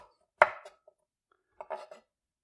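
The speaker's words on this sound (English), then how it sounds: "Actually, we're going to cut the ends off first." A knife trimming the ends off zucchini on a cutting board, two short crisp chops spaced about a second apart, close and clear with silence between.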